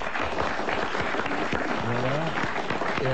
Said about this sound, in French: il a bien mérité, Monsieur Félix de Poitiers, qu'on l'applaudisse